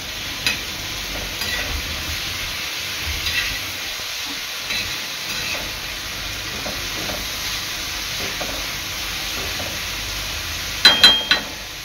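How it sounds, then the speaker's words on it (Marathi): Chopped tomatoes and onion cooking on a tava for egg masala, giving a steady close-up sizzle and hiss throughout with a few scraping stirs near the end. "टोमॅटो आणि कांदा चांगला एकजीव करून शिजवून घ्यायचा आहे"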